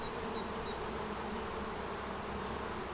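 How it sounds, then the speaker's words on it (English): Honey bees swarm around an open hive during a swarm-control inspection, making a dense, steady buzzing hum that holds unbroken and close throughout, with no talking. "they need a lot of space with all these bees"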